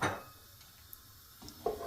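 A spoon scrapes and clinks briefly in a pan of hot oil holding bay leaves, crushed cardamom, cinnamon, cloves and pepper powder, with a clatter at the start and another near the end, quiet in between.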